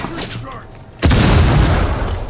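A single loud boom of gunfire in a shooter video game hits suddenly, followed by a sustained roaring rumble that fills the rest of the moment, after quieter background sounds.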